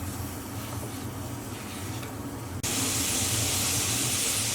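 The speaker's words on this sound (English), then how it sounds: "just fry our onions until they're nice and soft" Chopped onions fry in about two tablespoons of oil in a medium pot over medium heat, a soft steady sizzle that jumps to a louder, brighter hiss partway through.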